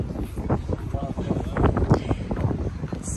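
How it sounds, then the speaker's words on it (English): Gusty wind buffets the microphone at the seaside on an Izmir promenade, a rough roaring rush under someone talking. "It's windy."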